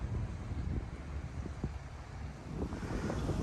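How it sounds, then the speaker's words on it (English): Strong gusty wind buffets an outdoor microphone ahead of a thunderstorm, a steady roaring rush with rumbling low-end swells and no voices. "the wind's picking up a lot"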